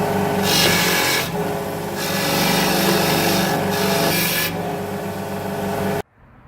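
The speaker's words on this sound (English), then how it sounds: "The bolts that we removed were 7/16 head, and we're going to go clean them up on the wire wheel" Bench wire wheel cleaning 7/16 head bolts from a Chevy V8, a steady loud whirring rasp with repeated surges as each bolt is pressed against the spinning bristles, ending abruptly.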